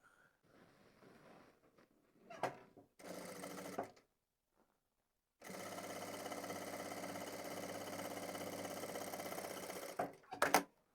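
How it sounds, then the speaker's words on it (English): A sewing machine stitches the side seams of a fabric pom-pom hat to form a tube, running in short bursts at first, then in one long steady whirring run, close and loud with no talk. "I'm going to sew the sides together there and I will have a tube."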